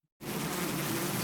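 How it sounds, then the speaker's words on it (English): A swarm of bees descends in the visual novel Hundred Line Last Defense Academy, a dense, loud, close buzzing drone that starts suddenly after silence and holds steady. "The sponsor's bees descended furiously from above."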